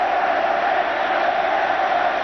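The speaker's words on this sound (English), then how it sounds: "What a roar of support from the crowd" Steady, dense crowd roar at a 1983 England versus All Blacks rugby union match, a continuous loud wash of massed voices cheering in support with no break across the whole moment.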